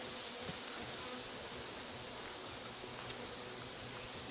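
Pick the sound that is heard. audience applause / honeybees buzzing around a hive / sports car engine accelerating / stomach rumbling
honeybees buzzing around a hive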